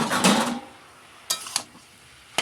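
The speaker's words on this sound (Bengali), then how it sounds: "এই যে আরেকবার নেড়ে নিচ্ছি।" Metal spatula scraping and clanking against a kadai while stirring food, a busy burst of scraping followed by a few sharp isolated clinks.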